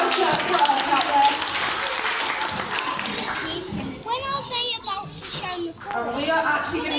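Outdoor audience at a theme park parrot show gives a loud round of applause mixed with children's voices, fading after about four seconds into chatter and a presenter speaking.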